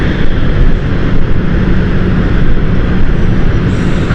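An ATR 72 turboprop airliner flies over London City Airport, a loud, steady, close roar of engines and propellers filling the whole stretch without any talk.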